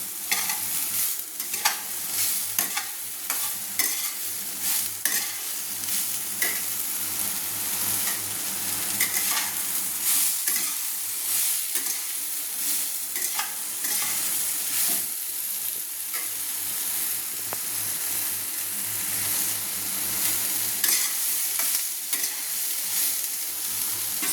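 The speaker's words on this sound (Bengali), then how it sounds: "একটু নেড়ে নিচ্ছি সয়াবিনটা বেশি ভাজলে হবে না কারণ শক্ত হয়ে যাবে" Soybean chunks frying in a pan, a steady close sizzle overlaid with repeated scraping strokes of a spatula as they are stirred, loud and continuous with no voices.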